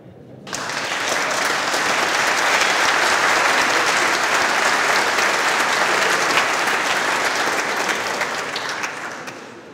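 Steady, dense applause from an audience at a farewell lecture by a retiring cardiology professor, starting abruptly and holding strong for nearly ten seconds before easing slightly, with no talking over it.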